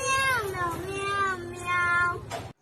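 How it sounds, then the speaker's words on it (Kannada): A cat meows in a drawn-out, wavering, song-like yowl, rising and falling in pitch for a couple of seconds, close and clear with a low hum beneath. "ಓ ಬೆಕ್ಕಿನ ಹಾಡು."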